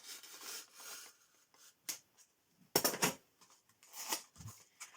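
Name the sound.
opening a mini mystery box package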